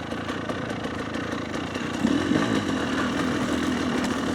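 A GPX TSE 300R motorcycle fitted with an X Gen 3 carburettor ticks over at idle, a steady close engine drone that lifts slightly partway through, with no talking.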